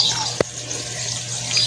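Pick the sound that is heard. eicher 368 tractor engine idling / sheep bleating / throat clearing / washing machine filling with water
washing machine filling with water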